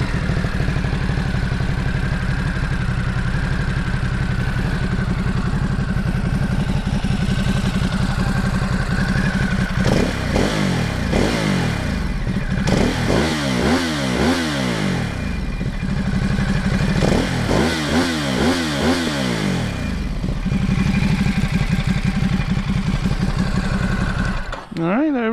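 A 2017 Ducati Supersport S motorcycle engine starts and settles into a steady, close idle with a few rev-like swells, running loud and continuous throughout with no talk over it.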